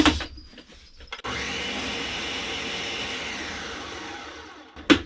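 A blender whirring through a thick gecko food mix, starting after a short pause and handling noise and holding a loud, steady motor roar for about four seconds before cutting off abruptly.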